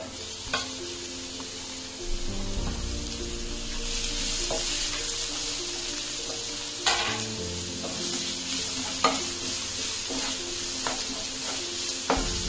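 Chopped onions sizzle steadily in a hot pan over already-cooked ginger for a peanut roti upma, with sharp spatula scrapes and taps at intervals and no talking.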